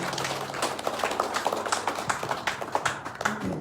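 An audience at a Navajo Nation event gives a sparse, uneven round of clapping, individual claps audible rather than a dense roar, at a moderate level throughout.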